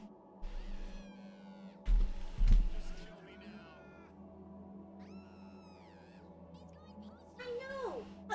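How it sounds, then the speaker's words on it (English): A cat shut in a crawl space gives several drawn-out, wailing meows, some rising into near-screams. The meows are spread across the clip, with a few bumps and some low talking in between. "The cat wants out of the crawl space, and if I don't let her out,"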